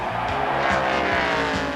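A.J. Foyt's No. 50 race car at the inaugural 1994 Brickyard 400 in Indianapolis roars steadily at close range, its loud engine drone joined by tire noise, with no talking.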